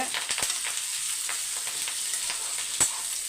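Onions sauté in a pan for chutney with a steady, close crackling sizzle, scattered sharper pops and a brief louder spit near the end. No one speaks.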